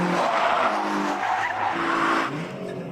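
MG ZS touring car with a 2.5-litre V6 growling under the bonnet, a steady close engine drone with hints of tyre scrub, continuous and fairly loud throughout.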